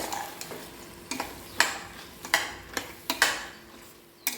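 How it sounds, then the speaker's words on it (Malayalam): Carrots, beans and cooked green peas being sautéed in a pan: a spoon stirs and scrapes in uneven clicks over a soft, steady sizzle, close and fairly quiet, with no talk. "നന്നായിട്ട് വഴറ്റിയെടുക്കാം."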